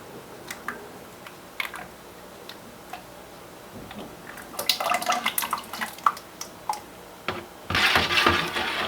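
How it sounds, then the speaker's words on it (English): Lye solution being poured over a stick blender shaft into a rhubarb soap batch, with small ticks and clinks of handling, then a splashing pour building to a steady liquid rush near the end. "we're going to pour this part of our lye solution in. And I'm going to pour this over the shaft just so that I can prevent splashing"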